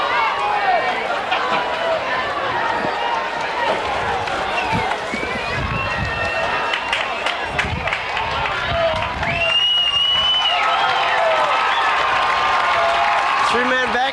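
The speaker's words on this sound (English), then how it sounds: "The crowd is on their feet." A crowd at a 1990 high school football game between Evanston Township and New Trier cheers and roars steadily, with shouts and whistles rising in the middle, while voices talk over the noise.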